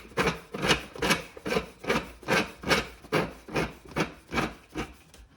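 Top piece of a Mockmill 100 grain mill being twisted tight onto its housing, giving about ten regular scraping, rubbing strokes in a steady rhythm, close and fairly quiet with no talk.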